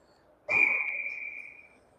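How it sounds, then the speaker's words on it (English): A referee's whistle at an ice hockey game between the Rampage and the Lincoln Stars, called for icing: one sharp, piercing blast held for about a second, close and loud over a quiet rink. "But we'll get a whistle for icing"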